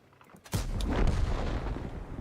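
A tank cannon shot in World of Tanks goes off with a sudden heavy boom, then a long rumbling roar that decays slowly over a couple of seconds, loud and close, with no talk over it.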